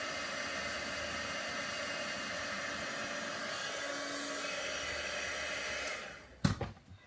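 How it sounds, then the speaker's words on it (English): A heat embossing tool blows hot air in a steady, loud whooshing hiss for about six seconds, then switches off and is followed by a few clunks as it is set down. "I'm embossing."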